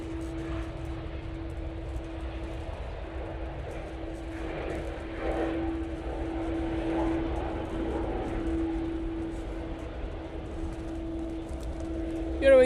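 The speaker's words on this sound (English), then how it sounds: "Lufthansa City, flying back to Munich using their A320neo." Lufthansa CityLine Airbus A320neo jet at Manchester Airport, a steady distant engine rumble with a constant tonal hum, carrying on under someone talking throughout.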